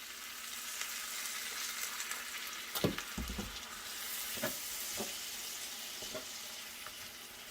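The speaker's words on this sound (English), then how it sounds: "We're going to put it right on in the pan and let it heat up, just warm it up in the juices here." Beef warms in a pan in its own juices and beef broth, giving a soft steady sizzle with a few louder pops and spatters scattered through it.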